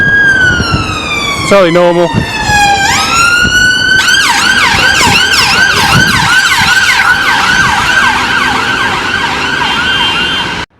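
A loud wailing ambulance siren sweeps up and down continuously as it passes close by near the Emirates Stadium, with a brief spoken remark early on.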